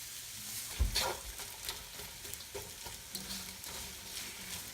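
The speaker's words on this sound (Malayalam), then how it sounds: "ഇതിലേക്ക് കുറച്ച് ഉപ്പൂടെ ചേർത്ത് നമുക്ക് വഴറ്റാം" Sliced onions sauté with salt in a hot pan, a soft continuous sizzle broken by stirring scrapes and one louder clunk near the start, faint and close, with no voices.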